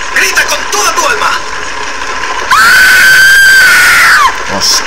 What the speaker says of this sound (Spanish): ¡Grita, Ann! ¡Grita con toda tu alma!